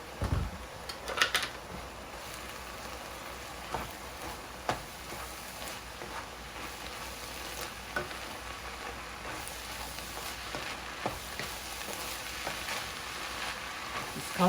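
Berbere spice frying in a spoonful of oil with minced meat and vegetables for an Ethiopian dish, a continuous close sizzle with occasional sharp crackles and spatter pops, steady and moderately quiet, no voices.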